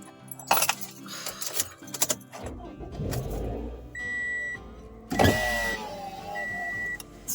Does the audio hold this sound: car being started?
yes